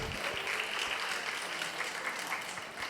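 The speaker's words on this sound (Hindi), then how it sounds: "जोरदार तालियां।" Loud audience applause at a Shrut Panchami event held by a Jain youth council in Delhi, a steady wash of many hands clapping for about three seconds, even and unbroken.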